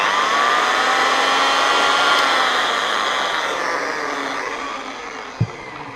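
Car polishing machine with a firm white pad spinning at 1800 RPM, a loud steady electric whine with a slight pitch drift, ending with a brief knock.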